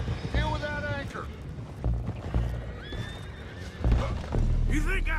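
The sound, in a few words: horses neighing in video game Red Dead Redemption 2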